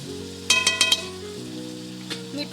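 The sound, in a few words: chicken sautéing with spice masala in a pan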